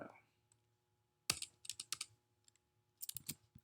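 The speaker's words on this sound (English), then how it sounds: "I'm going to type some stuff" Short bursts of keystrokes on a computer keyboard while entering Rust code, quiet, close clicks in two clusters separated by a pause, with faint room hum underneath.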